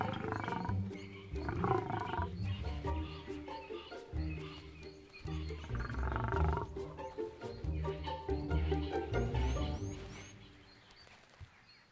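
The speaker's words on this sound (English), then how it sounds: "The lioness is careful of the sudden attention and tries to keep the male at a distance" A lioness and male lion in the Timbavati bush make deep, rumbling roars and growls in repeated bursts, fairly close, with faint birds calling in the background.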